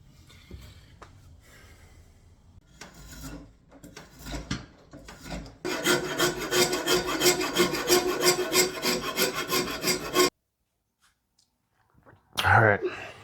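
A wooden handle for a vintage axe is shaped by hand, giving a steady rasping, rubbing scrape that grows loud and dense midway, stops abruptly, then returns in a short burst; softer handling noises come first.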